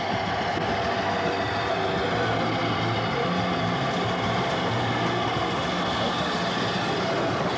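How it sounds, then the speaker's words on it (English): A train rumbles through a tunnel, giving a steady, dense, reverberant roar that stays even and moderately loud for the whole stretch. "The train is in the tunnel, Johnny."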